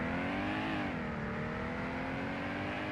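Car launching from a standstill in the Roblox Greenville driving game, a steady engine drone that climbs briefly, dips at a gear change, then holds a rising whine, with no talking.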